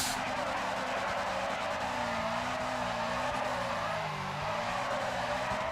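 Tires skid and squeal continuously with the handbrake on in a racing video game, a loud sustained screech over a droning engine, steady throughout with no talk.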